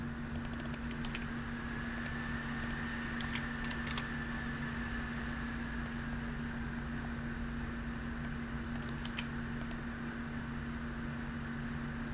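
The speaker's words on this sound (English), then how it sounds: "You can hear the fans whirring away here" Computer fans whir as a steady, even hum and hiss with a constant tonal drone throughout, while faint keyboard typing clicks sit on top of it.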